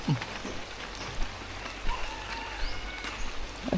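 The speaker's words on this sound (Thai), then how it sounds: "ยามเช้าที่ฝนตก" Morning rain falls steadily in front of a house, a continuous close patter of drops with a few sharper taps, with no voices.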